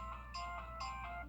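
The Chirp ringtone on a new phone, a bright synthetic tone that repeats in short chirping pulses about every half second over a steady hum, with no talking.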